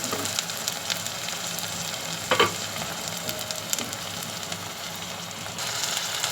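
Garlic and ginger-garlic paste fry in a pan for chana dal, producing a constant close sizzle punctuated by a few sharp stirring scrapes.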